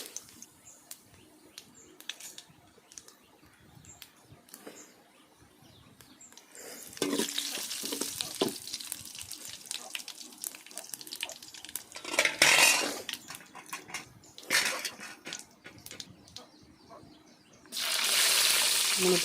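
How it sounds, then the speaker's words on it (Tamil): Whole spices such as bay leaf, cinnamon, poppy seeds, fennel, cumin and star anise stirred into hot oil for a country chicken soup, with clinking utensil and pan scrapes, bursts of sizzling and a faint bird chirp in the background. "எண்ணெயை ஊற்றிட்டு பிரியாணி இலை, பட்டை, கசகசா, சோம்பு, சீரகம், அன்னாச்சிப்பூ எல்லாம் சேர்த்து ஒரு கிண்டிக்கலாம்"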